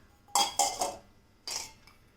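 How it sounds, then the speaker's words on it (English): Washed, cut beans, carrots, cucumber and bottle gourd dropped into a microwave dish, making a few quick clinks and clatters close by, then a short pause and one more rattle. "These are all washed and cut vegetables, so I am directly putting them"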